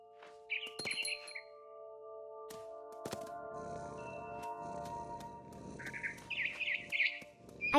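Birds chirp in the game What Remains of Edith Finch: a few short high tweets come early, then another cluster later, over a quiet tonal ambient bed with scattered soft clicks.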